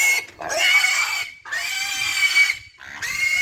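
A young boar on a farm gives three loud, close, drawn-out squealing grunts separated by short silences.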